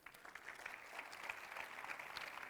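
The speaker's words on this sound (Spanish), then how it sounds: "Un aplauso." Audience applause at a Spanish-language technical talk on tamper-resistant logs, steady, dense clapping throughout the short stretch at moderate distance with no voices over it.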